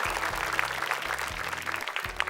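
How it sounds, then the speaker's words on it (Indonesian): A studio audience at a Quran memorisation competition claps for team Ahmad, steady applause running throughout the short moment, with a low musical tone beneath it. "Oke, boleh tepuk tangan untuk tim Ahmad,"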